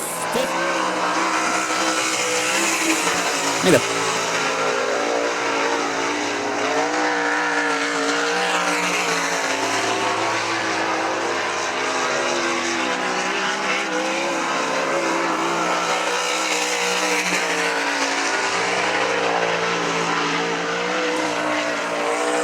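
Sprint cars lap I-96 Speedway in a continuous, loud racing roar, several engines wailing and overlapping as they pass nearby, with a brief sharp burst early on.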